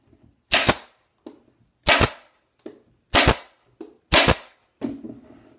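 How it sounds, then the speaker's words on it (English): A staple gun fires loud, close snaps as it drives staples through fabric onto a cornice valance. Four main shots come at an even rhythm, with softer clicks between them and no talking. "Take your staple gun."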